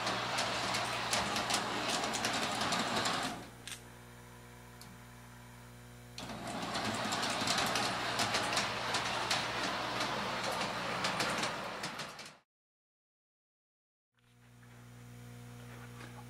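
Large scale model train on an automatic DC reversing shuttle, motor hum and wheel rattle running steadily, easing to a quieter idle, speeding up again, then briefly falling silent before resuming at a lower level.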